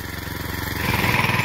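A small tractor runs nearby in a pomegranate orchard, with a steady pulsing engine drone that grows a little louder partway through.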